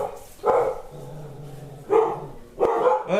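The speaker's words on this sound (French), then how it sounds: "Les chiens." Dogs barking in a home kitchen, a few sharp barks at intervals, fairly close and loud, with a low whimper or growl between them.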